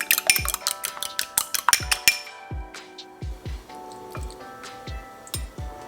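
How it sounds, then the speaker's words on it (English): Light whisking of room-temperature butter and half an egg for a baklava dough, heard as a run of quick close taps and clinks of the whisk against the bowl, dense at first and then thinning into spaced knocks. "30 grams butter at room temperature. Going to use half egg. I'm gonna whisk lightly."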